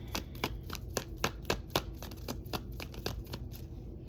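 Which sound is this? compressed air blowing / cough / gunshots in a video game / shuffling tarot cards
shuffling tarot cards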